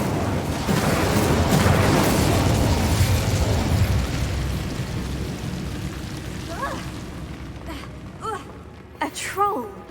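A fire spell cast in the Hogwarts Legacy video game erupts as a loud, sustained whooshing blast that slowly fades, with a few sharp bursts and pops near the end.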